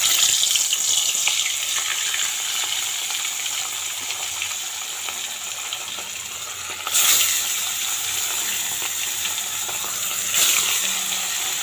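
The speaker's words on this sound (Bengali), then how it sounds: "মাছটা এখন তেলে দিয়ে দেবো।" Turmeric-and-salt-rubbed local katla fish pieces fry in hot oil, giving a loud steady sizzle with sharper spitting bursts as they settle, close up with no talking.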